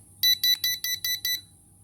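A smoke alarm test: six loud, shrill electronic beeps in quick, even succession, then stops, leaving a faint low hum.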